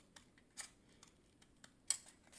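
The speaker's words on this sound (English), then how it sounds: "Just going to cut along the line." Scissors snip through fabric along a marked line for a no-sew headband craft, a series of quiet, close, crisp cuts at irregular intervals with one sharper snip near the end, in an otherwise quiet room.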